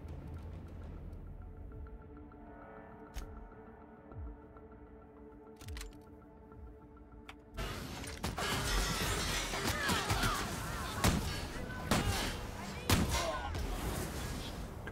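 Quiet game sounds in The Outer Worlds give way to a dense burst of rapid gunfire and sharp impacts, loud and continuous through the second half, with occasional talk in Russian.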